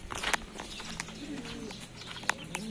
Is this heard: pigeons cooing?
yes